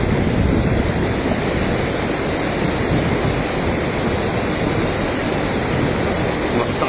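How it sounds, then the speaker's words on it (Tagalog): A strong river current rushes steadily during cast net fishing, a loud, dense, unbroken roar of water close to the microphone with wind buffeting and no break for the full seven seconds. "Lakas ng agos."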